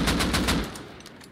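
An LR rifle fires in the video game Rust, a quick burst of about six sharp, evenly spaced shots that fade out toward the end, loud and close with no talk.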